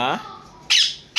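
Harsh, loud squawks from a myna, three calls in quick succession, near and clear with brief gaps between.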